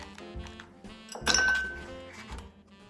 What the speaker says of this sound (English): So let's get some of these ice cubes out, and we'll make a gin and tonic.